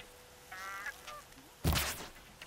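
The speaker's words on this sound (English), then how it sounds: "Immortal geese?" Geese honk in the video game Horizon, with a short honking call followed by a louder burst of squawking, heard on its own against quiet background game ambience.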